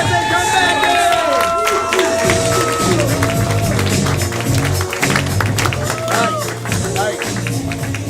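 An audience at a live main-event show cheers, yells and applauds as the players come back, loud dense crowd noise with bursts of whoops, and a voice talks over it.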